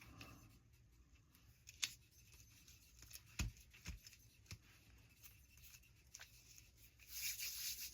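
Scissors snip through material while trimming a tapestry journal cover, a few sharp close cuts scattered among faint rustling and handling.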